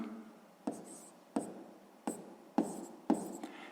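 Pen on paper during a sixth-grade maths exercise: five sharp, separate scratching strokes, each with a quick decaying scrape, spaced about half a second apart, close and quiet.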